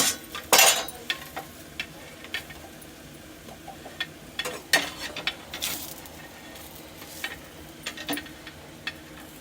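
Vada masala sautéing in a pan, with a soft background sizzle broken by irregular sharp clinks and scrapes of a spatula against the metal, some louder bursts near the start.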